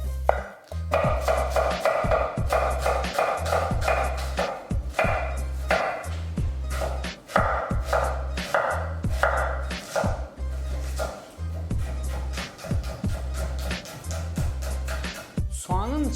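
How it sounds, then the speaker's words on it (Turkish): Two onions chopped very finely with a knife on a board, a fast continuous run of crisp close taps under a steady voice talking over them. "2 adet soğanımız vardı. Bunları mümkün oldukça küçük bir şekilde doğruyoruz."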